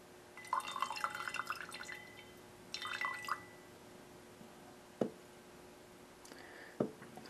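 Liquid reagent, about 10 milliliters, poured into a haloform reaction making chloroform: a splashy trickling burst followed by a second short pour, then a couple of sharp isolated clinks or drips against glass, faint and close.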